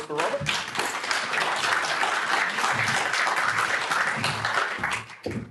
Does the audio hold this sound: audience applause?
yes